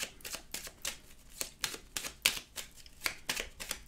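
Tarot cards are shuffled and drawn for a reading, giving a quick series of crisp, papery riffles and flicks in irregular bursts, close but soft, with brief quiet gaps between them.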